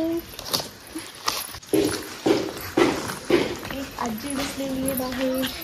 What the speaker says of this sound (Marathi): इथे एक डॉगी पण भेटलाय